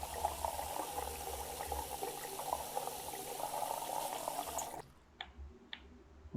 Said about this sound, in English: Fill it for more water.